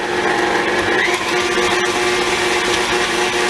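An electric mixer creams butter, sugar and salt together for a Southern pecan pie, giving a steady, loud, continuous whir with a gritty texture that runs unbroken throughout.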